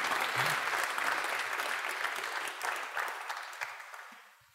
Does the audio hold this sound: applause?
yes